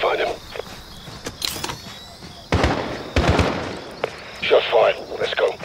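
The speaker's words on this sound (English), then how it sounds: "Shot's fired." Gunfire in a Call of Duty stealth mission at night: several sharp broadband shots around the middle and a later burst, over a low ambient bed.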